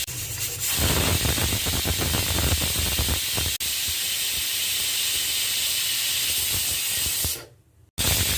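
A pressure cooker on a chicken curry vents steam in a loud, continuous hiss that cuts off sharply near the end, leaving a brief moment of quiet.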